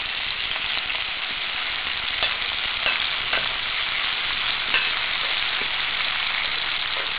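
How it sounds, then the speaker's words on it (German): Small potatoes frying in a pan over a bioethanol spirit stove, giving a continuous even sizzle and crackle with faint pops scattered through, close and steady with no voices. "Jetzt wird das Ganze hier noch gebraten, bis alles goldbraun ist."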